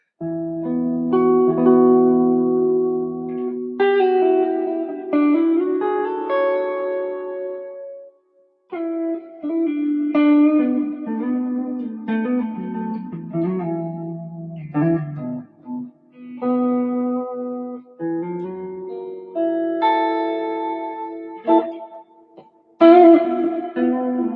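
An electric guitar played through a JHS 3 Series Reverb pedal runs notes and chords drenched in reverb, each phrase trailing off into a lingering wash. No voices.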